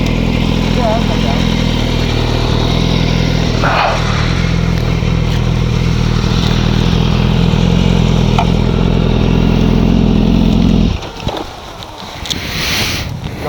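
A BMW S1000R motorcycle engine idling and running at an ACL track, a loud steady drone with wind buffeting that cuts off abruptly near the end, followed by quieter ambient noise.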